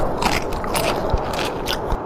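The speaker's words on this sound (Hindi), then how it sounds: "कुछ जानवरों को तो वो कच्चा ही चबा गए।" Giant animated lions in a Hindi 3D cartoon crunch and chew raw animals, a dense run of close, loud biting, crackling and scraping crunches with a few heavier chomps.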